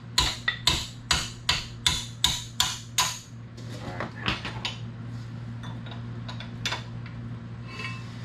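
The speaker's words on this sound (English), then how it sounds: "Now I usually just give them a little tap, loosen them up." Metal hammer taps on the caliper bracket bolts of a 2004 SRT-4 brake assembly, about eight sharp, evenly spaced strikes close up, followed by quieter scattered clinks of tools and parts over a steady low hum.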